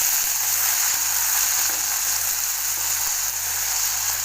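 Onion and curry leaves fry in a pan for drumstick sambar, giving a constant, even hiss of sizzling oil close by with a low steady hum beneath and no talking.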